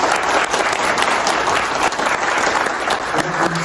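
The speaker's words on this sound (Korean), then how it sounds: "뜨거운 박수 부탁드리겠습니다." Sustained applause from a lecture audience at a hotel talk, dense and steady throughout, loud and close with no speech over it.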